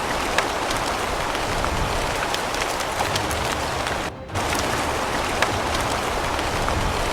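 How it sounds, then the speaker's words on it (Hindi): Heavy monsoon rain pours during a downpour in Bihar, a dense, steady hiss of close rainfall that continues without a break apart from one brief dip partway through. "बारिश होने का नाम नहीं ले रही है पिछले 2 दिनों से"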